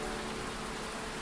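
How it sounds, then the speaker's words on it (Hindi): Heavy rain pours in a Bible story of Noah's flood, a dense, continuous hiss of falling water that stays loud and even throughout the short stretch, with no voices. "पृथ्वी पर 40 दिन और रात बारिश हुई"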